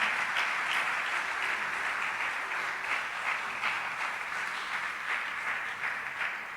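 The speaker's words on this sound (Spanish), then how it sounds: "dale un aplauso a Dios por eso" A church congregation at a Spanish-language service claps together in sustained applause, moderately quiet and even, with a continuous patter of many hands and faint pulsing swells.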